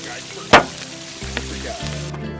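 Fish, potatoes and onions frying at an outdoor fish fry near a lodge, giving a steady close sizzle with one sharp louder hiss burst early on and low hum underneath.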